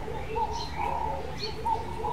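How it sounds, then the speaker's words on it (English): Doves coo softly in the background of a garden studio, a few gentle rounded hoots repeating in a slow rhythm over a low ambient hum. "Hear those doves in the background."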